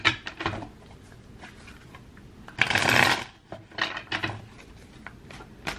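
Tarot cards handled and shuffled on a table, with a dense riffling burst in the middle between lighter taps and slides of the deck, close and fairly quiet.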